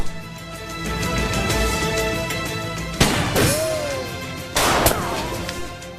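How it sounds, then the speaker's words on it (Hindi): Gunfire in a TV drama battle scene: a few sharp, loud shots and crashing blasts land in quick succession over a sustained dramatic music bed. "ये लोग तो स्ट्रेट फायरिंग कर रहे हैं।"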